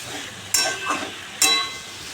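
A curry of papaya, potato and pointed gourd is sautéed in a pan. Two sharp scraping clatters stand out over a faint background sizzle, and a softer stir falls between them.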